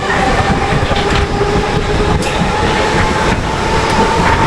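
A Mumbai suburban train runs at Chhatrapati Shivaji Maharaj Terminus, a loud continuous rumble of wheels and carriages with steady rail noise and faint clatter throughout.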